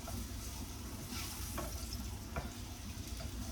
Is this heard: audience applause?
no